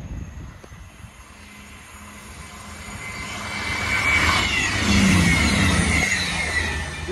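A train passing through Alfreton station, its rumble and rail noise building steadily from a moderate level to a loud, broad roar with some wheel squeal, heard on its own without voices.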